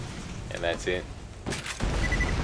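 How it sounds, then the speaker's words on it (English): A rocket launcher explosion in the video game Borderlands 2 lands as a booming blast with game effects after a man's brief words. "Kaboom, down he goes."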